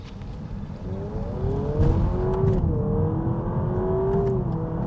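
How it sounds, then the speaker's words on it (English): A Honda car launching hard from a standstill during a 0-to-60 mph run, its engine note climbing steadily through manually shifted gears with brief dips at each change, heard from inside the cabin with no talking. "I'm going to launch the car and I'm going to change gears myself."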